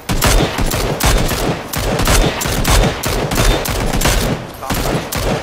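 Dense, loud bursts of rapid gunfire from the video game PUBG, several sustained volleys with short gaps between them, dominating the mix with no talk over it.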